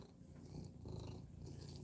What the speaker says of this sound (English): cat's definitely purring.